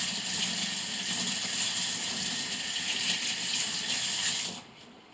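Water from a tap pours steadily to rinse time-released fertilizer pellets, a close continuous hissing gush that cuts off abruptly near the end.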